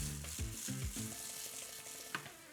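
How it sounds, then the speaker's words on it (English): Unwashed arborio rice toasting in a pan for arancini, a faint, soft crackling sizzle at low level with a brief scrape, partly masked by low tonal background sounds. "We're gonna toast our rice for a little bit before we add in our broth"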